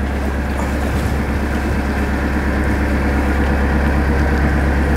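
A narrowboat engine idles just under 1,000 rpm while the boat sits still, a loud, close, steady low chugging drone that stays constant throughout with no talking.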